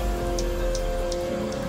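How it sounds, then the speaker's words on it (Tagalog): Rain falling outdoors, a steady soft patter of drops on surfaces forming an even, continuous hiss, with a low hum running underneath. "biglang umuulan din"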